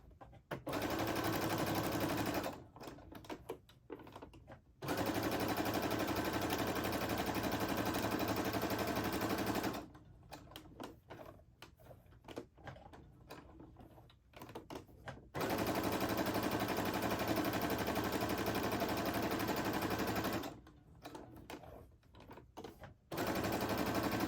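A sewing machine stitches through fabric and shelf liner in long, steady, rapid bursts lasting several seconds each, separated by short pauses with small handling noises.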